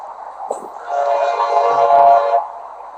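A train horn blares steadily for about a second and a half, loud and fairly close, with a sustained harmonic tone and a short rumble underneath.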